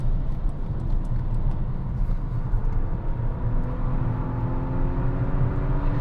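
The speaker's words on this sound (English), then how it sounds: "It kind of sounds a little fruity at high RPMs." Volvo V60 T8 Polestar Engineered engine revving high while driving, a steady loud drone with rising whining tones, heard from inside the car with no talking.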